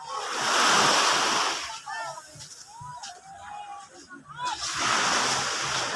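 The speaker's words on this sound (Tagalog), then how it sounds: "Ayan ang dagat." Sea waves wash in at Anilao, Mabini, Batangas, a near, loud hissing surge that swells, eases while voices talk and birds chirp faintly, then rushes in again.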